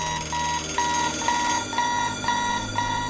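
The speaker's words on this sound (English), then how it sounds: "as a million alarms go off at once," Many alarm clocks ring at once in a dense, deafening chorus, steady repeated electronic beeps pulsing in a regular rhythm over a constant ringing wash, loud and without speech.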